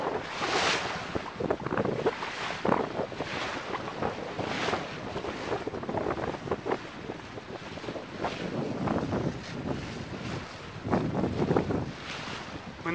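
A gaff cutter sails solo under full sail in a 10-15 knot breeze off Peel in February, with steady rushing wind buffeting the microphone and water washing along the hull, continuous and fairly loud throughout.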